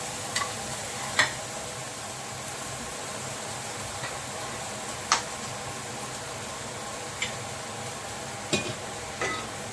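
Ginger paste fries in a pan for a cauliflower dish, giving a soft, steady sizzle with a few scattered sharp pops and crackles, fairly quiet throughout.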